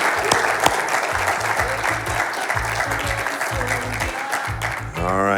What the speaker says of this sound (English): How about a big round of applause for our Buffalo Soldiers?